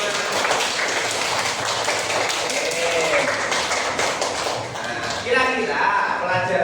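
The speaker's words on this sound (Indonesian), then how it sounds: "tepuk tangan untuk kalian semua" A group of children applauds during a class lesson, with dense, ragged clapping that swells and eases, mixed with voices talking.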